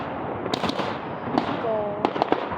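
Fireworks bursting outdoors at a 2023 display, several sharp cracks and pops spread over a couple of seconds with a whistling trail, somewhat distant, with people talking faintly.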